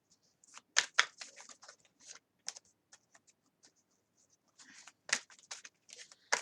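Cards from an oracle deck by Lucy Cavendish being shuffled and drawn, giving close, dry papery flicks and slides in irregular bursts with quiet gaps between.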